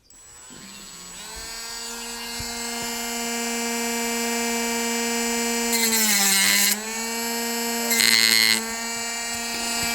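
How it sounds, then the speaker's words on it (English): A small rotary tool sands a handmade garfish swimbait lure with a steady, rising high-pitched whine that grows louder over time, with two brief bursts of harsher grinding near the end; no one speaks. "I'm going to sand it down a bit and we should be okay with that."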